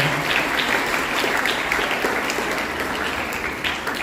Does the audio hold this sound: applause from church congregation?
yes